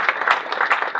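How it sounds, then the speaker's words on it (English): Audience applause at a campus lunch lecture on American urbanism, a dense steady patter of many hands clapping, fairly close and continuous through the short moment with no voices over it. "Can we give a round of applause for everyone who's here today?"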